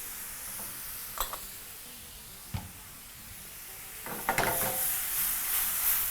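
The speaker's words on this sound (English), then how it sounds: "we're just going to proceed to deglaze the pan by using some teriyaki sauce and some dark soy sauce" Beef strips sizzle steadily in a hot pan as teriyaki and dark soy sauce are added to deglaze, with a soft constant hiss broken by a few sharp clinks and bursts of louder frying.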